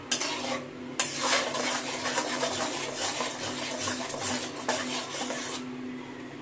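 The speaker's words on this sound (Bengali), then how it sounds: "নুন হলুদটা মিশিয়ে নেব মশলা তেলের সাথে" A spoon stirs and scrapes around a karai as salt and turmeric are mixed into hot mustard oil and spices for Bengali ilish bhapa, with a soft sizzle and clinks close by.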